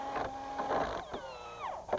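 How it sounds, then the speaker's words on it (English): Cordless battery-powered driver sinking drywall screws into wood for garden structures: whining motor pulses that rise and fall in pitch, close and moderately loud, with a short descending whine near the end. "You can just use a battery-powered driver like this."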